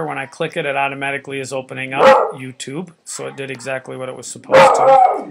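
A pet dog barks and yips in short bursts behind someone talking steadily indoors, the barks loud and close, landing in brief clusters between his sentences.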